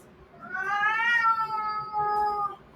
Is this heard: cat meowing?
yes